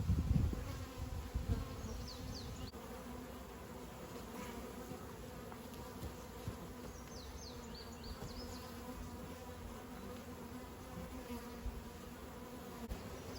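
Honey bees at an opened hive, a steady dense buzzing drone close by that lasts throughout, with a few louder bees passing near at the start and no talk.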